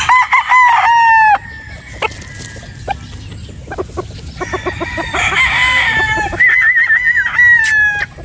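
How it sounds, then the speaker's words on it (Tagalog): A broodstag rooster, a pure Boston Roundhead gamefowl, crows several times, loud and close, with clucks in between on a farm. "Medyo nahihiya yung ating broad stag."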